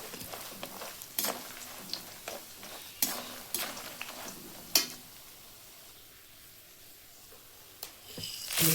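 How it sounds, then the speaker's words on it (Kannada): Cinnamon frying in a little hot oil in a pan, a quiet sizzle broken by scattered sharp taps and scrapes of a stirring utensil, with no talking. "ಅದನ್ನ ಒಂದು ಸ್ವಲ್ಪ ಎಣ್ಣೆ ಒಳಗೆ ಕರ್ಕೋಬೇಕು"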